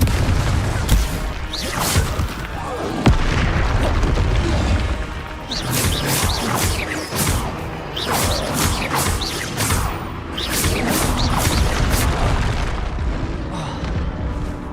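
Confringo blasting spells go off in Hogwarts Legacy as a string of loud, booming explosions and crashes, one after another over a steady layer of battle noise.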